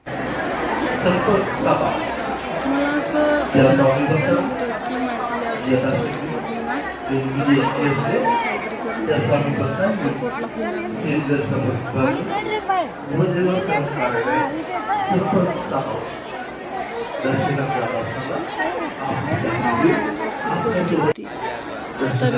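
A crowd of devotees at the Shri Swami Samarth temple in Akkalkot makes a steady, close murmur of chatter, with someone speaking over it throughout.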